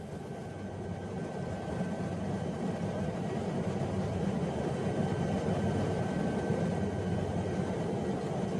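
An SA315 Lama helicopter in flight in the mountains near Lukla: a steady, loud engine and rotor drone heard continuously from inside the aircraft, with no talk.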